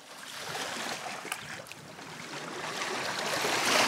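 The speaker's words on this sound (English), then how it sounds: "listening to the water lapping the beach" Sea water lapping against a boulder beach at Lingness in Shetland, a steady soft wash of small waves and trickles, close by and continuous, slowly growing a little louder with no voices.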